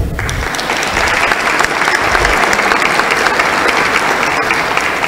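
Strong continuous applause from a seated audience at a forum on electoral reform, many hands clapping steadily and evenly from start to finish.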